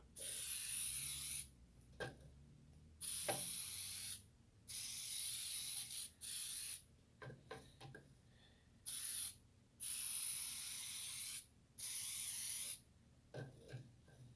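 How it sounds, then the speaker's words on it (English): Baker's Joy baking spray misted into a cake pan: several loud, steady hissing bursts of one to two seconds each, separated by short pauses and faint handling clatter, close to the mic with no voices. "we're going to go ahead and get our pan sprayed. We got some baker's joy here."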